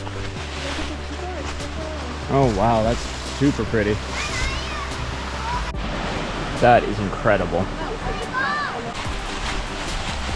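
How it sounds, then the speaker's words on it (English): Waterfall at Hoggs Falls on the Bruce Trail, a steady broadband rush of falling water heard outdoors beneath excited talking from hikers. "I hear waterfall."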